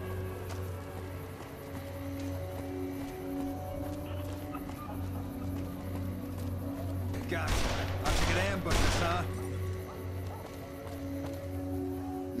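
Gunshots in Fallout: New Vegas, three quick loud reports clustered together midway through, set against a steady humming game ambience.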